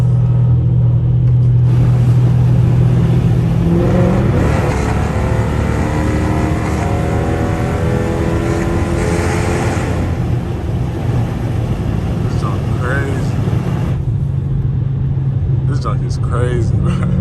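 A catless Dodge Charger SRT driven on a highway late at night with the window down: a loud, steady exhaust drone that climbs in pitch during a hard pull, then settles back, with constant road and wind rumble.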